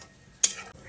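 A lid set onto a pan of simmering soya chunk curry gives a single sharp metallic clack, brief and close, against a faint background of cooking.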